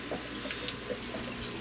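Aquarium water from a 125-gallon tank siphoning into a tub, a soft steady trickle and splash with faint drips, close and quiet, no talking.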